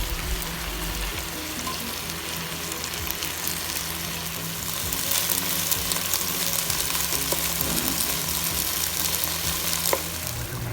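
Onion, tomato, fish sauce and beef liver fry in a hot pan for beef and liver kaldereta, giving a steady loud sizzle with occasional stirring scrapes throughout.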